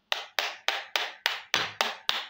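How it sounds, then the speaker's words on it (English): A hammer or screwdriver taps a laptop AC/DC charger case to crack it open, eight sharp, evenly spaced knocks that ring briefly, close and loud with no talking. "take a hammer or take a screwdriver and tap it"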